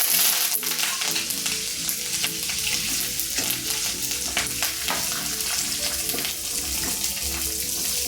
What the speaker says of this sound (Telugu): ఈ పెసరపప్పు అనేది కొద్దిగా గోల్డెన్ కలర్ వచ్చేదాకా మనం ఫ్రై చేసుకోవాలండి